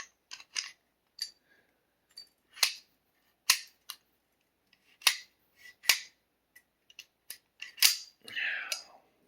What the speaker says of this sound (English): Take your gun, take everything, slide it back together.